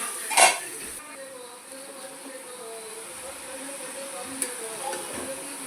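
A spoon scrapes and clinks against a pan while snake gourd vegetables are stirred, one sharp metallic clatter at the start, then quiet shuffling with a faint sizzle and a light clink near the end.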